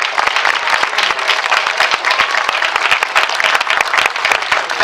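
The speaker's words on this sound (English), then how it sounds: "Let's have another round of applause, please, for Stephen Behr." Sustained applause from a concert audience at a community band performance, dense steady clapping throughout with no speech over it.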